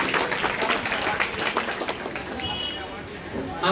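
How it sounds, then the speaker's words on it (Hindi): Audience at a Teacher's Day celebration applauding a guest speaker, a dense, steady burst of clapping from a crowd that stays loud throughout before easing slightly toward the end. "तो एक बार जोरदार तालियां जब्बार सर के लिए।"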